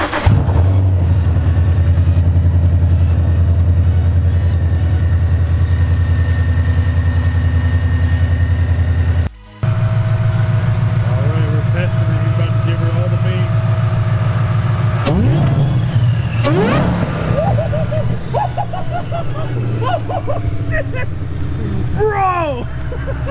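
A Ford Mustang S550 with a swapped Terminator engine idles loudly and steadily, cuts out briefly, then roars back with several rising revs and throttle blips, close up, as people shout excitedly over it.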